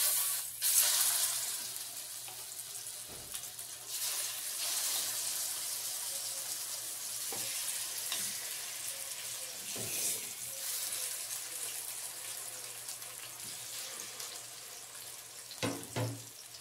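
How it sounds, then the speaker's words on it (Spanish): Pork chops frying in a little oil in a pan or pot, a steady soft sizzle with occasional crackles and brief louder pops, continuous throughout with no talking. "En un sartén o una cazuela le vamos a poner poco aceite para que se frían. Vamos a poner las chuletas."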